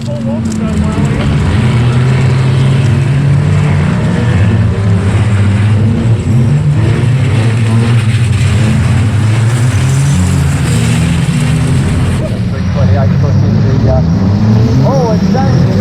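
Race cars lap a track at a Roger Wilko tribute meeting. Several engines drone and rise and fall together without a break, loud and close, while a commentator talks over them throughout.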